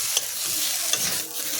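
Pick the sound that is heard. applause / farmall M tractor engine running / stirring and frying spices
stirring and frying spices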